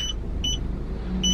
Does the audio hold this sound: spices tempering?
no